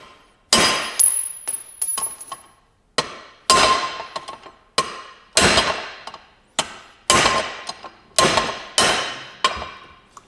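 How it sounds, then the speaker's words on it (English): Wheel studs are hammered out of the hub on a 2024 GMC 2500 pickup during a lift kit install. About a dozen sharp metallic hammer blows land in loose groups, each clanging and ringing out close and loud. "So we need to pound out those studs"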